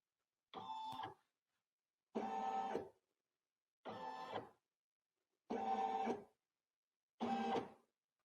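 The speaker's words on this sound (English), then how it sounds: "If I press this button, it will simply go in a full complete square," An NQ1700E sewing machine traces an embroidery design outline, giving five evenly spaced short mechanical whirring bursts separated by brief silences, close and fairly quiet.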